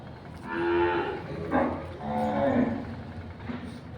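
Cattle at a large cowshed moo in two long, low calls close by, followed by a fainter third call, while calves feed in a quiet setting.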